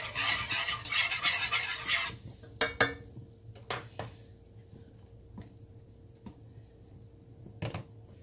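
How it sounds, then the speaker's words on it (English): A spoon stirs flour into a sauce in a pot for macaroni and cheese, starting as a dense scraping swirl for about two seconds, then thinning into a few scattered, close clinks against the pot over a quiet background. "we're gonna stir this up."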